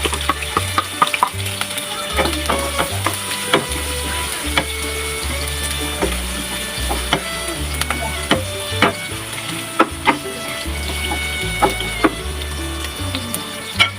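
Garlic and onion sauté in a pan with a steady crackling sizzle, joined by repeated sharp clacks and scrapes of a utensil against the cookware and a low rhythmic thumping underneath.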